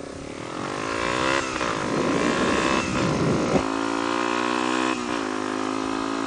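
A Yamaha TW200 dual-sport motorcycle runs along a woods trail, its single-cylinder engine droning steadily and close while the rider shifts and the revs rise and fall, all under heavy wind rush.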